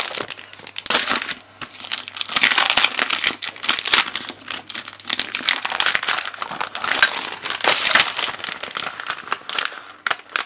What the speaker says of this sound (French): maintenant je vais prendre une feuille pour plastifier tout ça